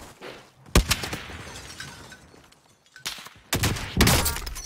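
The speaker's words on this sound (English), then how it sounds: "We're getting shot from behind." Gunfire crackles in a tactical shooter video game, several sharp bursts hitting close and loud, separated by quieter stretches of ambient noise.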